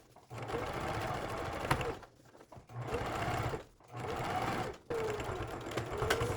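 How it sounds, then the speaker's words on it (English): A sewing machine with a zipper foot stitches along the brim edge of a fabric hat in three steady bursts of rapid mechanical whirring, separated by brief pauses, close and clear. "now I'm going to stitch really close right along this edge"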